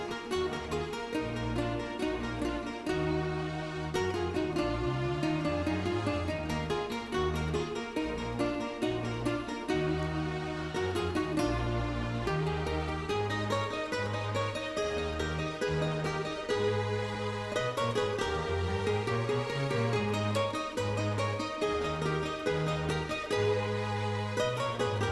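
A metal track plays continuously at steady volume, dense with driving distorted guitar riffs, bass and drums, with no talk over it.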